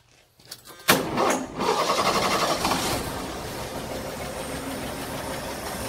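A 1983 Ford F150 with a 4.9 liter straight six, smog pump removed, cranks and catches, then settles into a steady, loud close-up idle with no talk.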